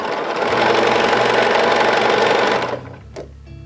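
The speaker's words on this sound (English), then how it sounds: "face them right sides together, sew a 1/4 inch seam, and we're going to chain stitch these" A sewing machine chain-stitches quarter-inch seams on light and dark quilt fabric pieces for an Ohio Star and four-patch quilt, a loud close continuous whir that stops after about two and a half seconds, then brief handling noise.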